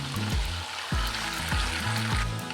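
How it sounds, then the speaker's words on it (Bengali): Garlic and panch phoron spices fry together in hot oil for a homemade olive pickle, giving a dense, continuous close crackle and sizzle with a few stirring scrapes. "খুব সুন্দর করে এটাকে রসুনটাকে আর পাঁচফোড়নটাকে ভেজে নেব"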